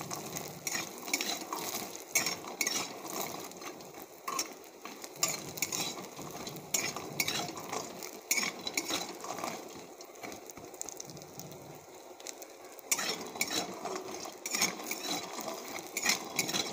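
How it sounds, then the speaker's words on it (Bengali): Lentil dumplings (bori) fry in hot oil in a wok, giving a steady, busy crackle with scattered sharp clicks and scraping of a utensil throughout, fairly close and with no talking. "তেল দিয়ে আমি বড়িটাকে ভেজে নেব।"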